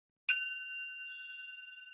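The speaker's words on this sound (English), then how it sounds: "I'm going to ring my bell" A single meditation bell strikes once, its clear metallic tone ringing out and sustaining softly in the quiet with no speech.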